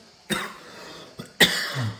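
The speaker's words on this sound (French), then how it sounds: "Je tousse, ça fait 5 jours." Two sharp coughs, the first followed by a lighter one, then a second harsh cough, close and clear with no talking.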